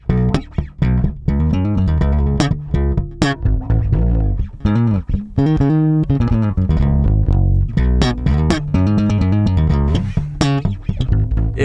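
A full band track plays loudly with a prominent, busy bass guitar line driving beneath drums and other instruments.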